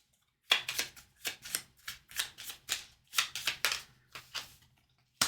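Pathfinder game cards are shuffled by hand in a quiet room, a series of close, crisp riffling bursts in irregular rhythm separated by short pauses, with no talking.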